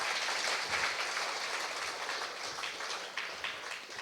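A large audience at a welcome ceremony in Chandrapur breaks into steady, dense applause at a moderate distance, continuing evenly throughout with no pause.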